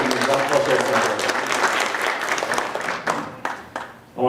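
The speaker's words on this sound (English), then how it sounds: "So Russell, round of applause." Audience at a memorial lecture applauds in a full, dense burst of clapping that gradually thins out, with a few scattered claps and a short pause near the end.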